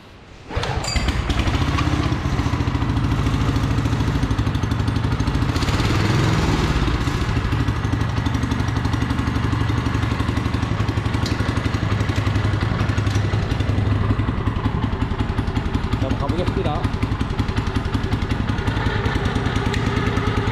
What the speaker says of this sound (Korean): 시동을 한번 걸어서 연결 한번 해볼게요.